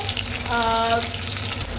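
Pieces of rohu fish frying in a pan of hot oil, a steady loud sizzle that swells briefly in the middle, with no one talking.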